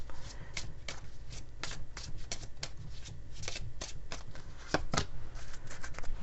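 Romance oracle cards are shuffled by hand in a quiet room, a series of soft, rapid riffling bursts and flicks repeating irregularly at close range.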